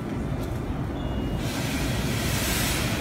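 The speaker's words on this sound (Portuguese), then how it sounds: "E o trem já tá vindo, ó." A train arriving at Newark Penn Station, a steady low rumble and rolling roar that swells into a brighter hiss of wheels and air about halfway through, loud and close.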